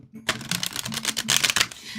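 Tarot cards being shuffled, a fast papery clatter of cards riffling close by, dense and continuous for about a second and a half after a short quiet start.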